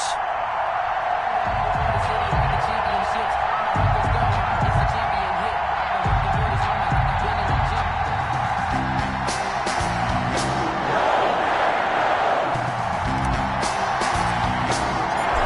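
A football stadium crowd in an EA Sports Madden game, Washington against Green Bay, roars in a loud, continuous wash of cheering that fills the whole stretch, with a commentator talking over it.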